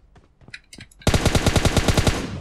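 Gunfire in the mobile battle-royale game PUBG Mobile: after soft footsteps and faint game noise, a loud, close burst of rapid automatic shots, about a dozen evenly spaced cracks, fires continuously with no talk over it.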